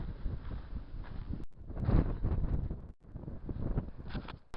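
Wind gusting outdoors in the cold Scottish countryside near an old house, a steady rough rumble buffeting the microphone, with brief drops and swells and no voices.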